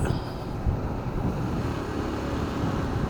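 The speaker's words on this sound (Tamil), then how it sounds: "பேய் காற்று அடிக்குது இங்கே" Strong wind buffets and rumbles continuously, a loud low roar with gusty fluctuations and no voices heard.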